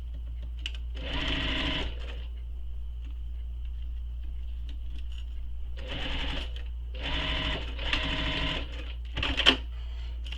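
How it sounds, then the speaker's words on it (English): A sewing machine stitches along the short edge of a fabric shoulder bag. It runs in four close bursts of rapid mechanical whirring, the last two back to back, separated by quiet gaps with a faint steady background hum. "So I'm going to sew this right along that line that we made on the short edge."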